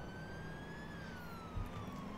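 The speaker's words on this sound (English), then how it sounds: "I hear sirens." A police siren in the Roblox Ultimate Driving game wails faintly in the distance, a slow falling tone over a quiet background.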